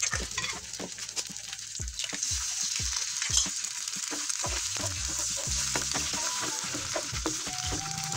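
Eggs fry in a pan for meaty fried rice, a close, steady sizzle punctuated by repeated spatula taps and scrapes against the pan.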